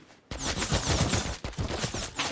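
Dense, rapid bursts of video game gunfire, loud and continuous, with a brief pause before the firing resumes.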